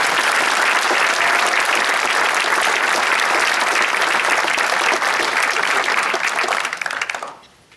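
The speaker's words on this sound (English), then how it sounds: "Let's give him another round of applause." Dense, sustained applause from an audience at a fundraiser auction fills the room, then fades out quickly at the end.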